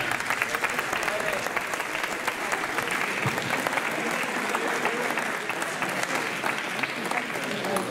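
Dense, sustained applause from a crowd at a poultry exhibition award ceremony for a breeder, loud and steady throughout with a faint murmur of voices beneath.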